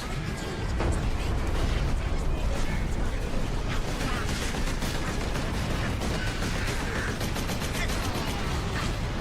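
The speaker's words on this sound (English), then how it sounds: "Where are these grenades even coming from?" Grenades exploding in a video game: a dense, continuous roar of blasts and gunfire-like crackle fills the scene, with repeated bursts and no clear gaps.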